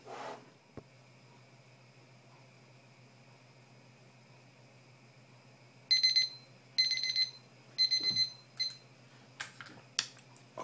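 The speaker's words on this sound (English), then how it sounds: "We've got the timer now going" A kitchen timer goes off after a three-minute wait: a quiet steady hum, then a series of short, loud, evenly spaced electronic beep bursts near the end.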